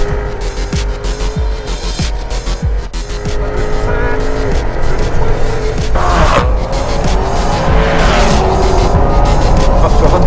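A Jaguar F-Type sports car drives flat out at about 180 mph during a parachute braking test for the Bloodhound SSC record attempt, its engine roaring loud and close with rising gear-change pitches and a brief tyre squeal.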